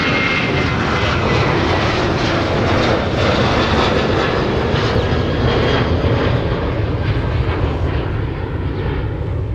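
Delta flight 2125 jet airliner departing Minneapolis–St. Paul Airport for San Diego, a loud close engine roar with rumbling low end and pulsing texture, steady and powerful throughout.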